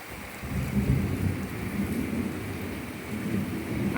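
A thunderstorm over a house in Augusta, Georgia, with a low rolling rumble of thunder beneath a steady patter of rain on the roof and carport, continuous and moderately loud.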